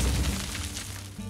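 A hero ability strikes a minion in the card game Hearthstone, landing as a brief, heavy booming impact with a dense, crunchy low rumble that sustains over about a second.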